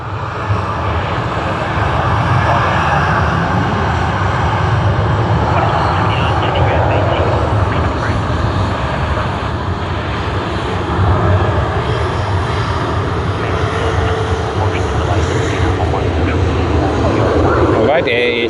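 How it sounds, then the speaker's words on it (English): An Air Asia jet airliner at Sydney Airport starts its takeoff roll, a steady, loud engine roar building and holding throughout, with a voice talking over it. "Air Asia has begun its takeoff roll"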